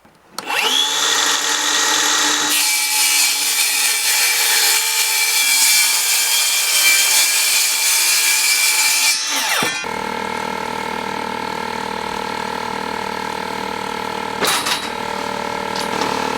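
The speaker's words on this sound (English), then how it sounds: "last piece of plywood that I'm gonna cut for the roof" Power saw cutting the last sheet of plywood for a house roof, a loud steady buzzing rip for about nine seconds that ends abruptly, followed by a lower mechanical hum with a brief sharp burst near the end.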